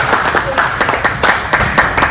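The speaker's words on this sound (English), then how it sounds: "Let's give her a round of applause" Audience at a senior fraud awareness session clapping, with distinct rhythmic claps and some scattered crowd murmur, close and fairly loud.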